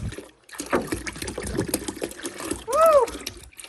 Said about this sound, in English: I will finish this pouring. Okay, so the 2 gallons of milk are in the pot